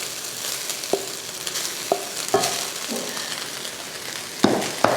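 Cooked rice is stirred into carrot frying in a pan for carrot rice, under a low, steady sizzle. Sharp spatula taps and scrapes sound at irregular moments, close and fairly loud.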